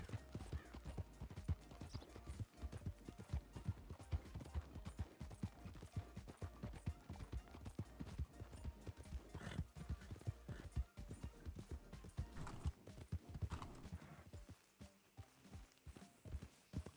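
Horse hooves clip-clopping at a steady run in the Red Dead video game, with a fast continuous rhythm of hoofbeats and occasional whinnies and tack rattles, loud and close, easing off near the end.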